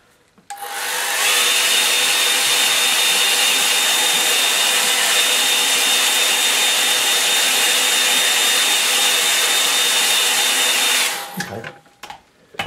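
A hair dryer blows on a wet painting, switching on with a quick rise into a loud, steady whooshing roar with a high whine, running for about ten seconds before cutting off, followed by a few clunks.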